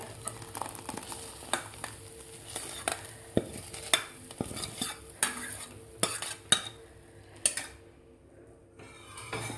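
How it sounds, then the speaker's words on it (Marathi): Spoon stirring sabudana and mung dal kheer in hot milk in a pot, with repeated sharp scraping and clinking strokes against the metal at an uneven rhythm, close and fairly loud, no voices. "आता व्यवस्थित आपल्याला हलवून घ्यायचं आहे"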